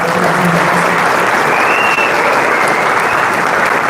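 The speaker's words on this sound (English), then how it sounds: "let's give them a big round of applause right now" A large audience at the FSExpo 2025 flight simulation expo claps steadily in a loud, dense wave of applause that carries through the whole clip.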